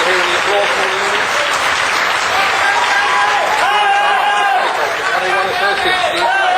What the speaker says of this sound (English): you're hearing the applause from the audience